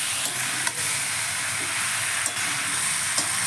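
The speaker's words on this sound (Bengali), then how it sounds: "এবার আমি চিংড়ি মাছগুলো দিয়ে আর একটু কষিয়ে নেব।" Prawns added to jackfruit in a pan hiss and sizzle steadily, with a few sharp scrape-like knocks of stirring cutting through the close, continuous frying noise.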